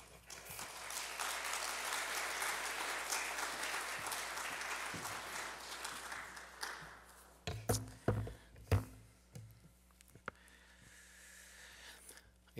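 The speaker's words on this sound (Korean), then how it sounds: "우리 하나님께 감사의 박수 올려드리며 맞이하겠습니다" A church congregation at a Sunday worship service applauds to welcome a missionary, a soft wash of clapping that fades after several seconds, followed by scattered thumps, taps and shuffling sounds nearby.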